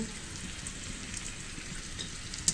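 Whole spices such as cardamom, cloves and bay leaves frying in a pan with a splash of water for egg korma, giving a steady, even sizzle throughout with one sharp pop near the end.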